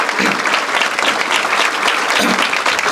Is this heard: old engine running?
no